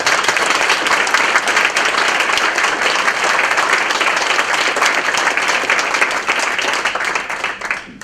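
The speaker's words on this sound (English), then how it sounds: "let's give a big round of applause to all of our recipients for today." A large audience at the 2016 Austin Peay State University athletics hall of fame ceremony gives a sustained, loud round of applause for the honorees, dense steady clapping that holds for about eight seconds before easing slightly at the end.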